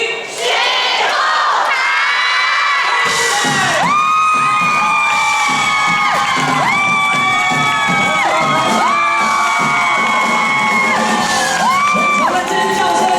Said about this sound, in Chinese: 全场的尖叫声虽然没戴口罩